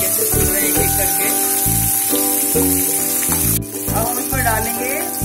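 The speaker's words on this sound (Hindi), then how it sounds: "अब प्याज डालेंगे इसमें फ्राई करेंगे।" Onions sizzle and fry loudly in a pan of browned ginger and garlic, a dense continuous crackle with bursts of hissing steam and occasional stirring, nearby and close to the microphone.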